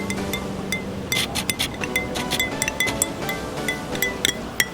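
A spoon stirs water into a mixture inside a glass during a school chemistry experiment on colloids, giving a run of irregular, fairly close clinks and taps against the glass with no talking.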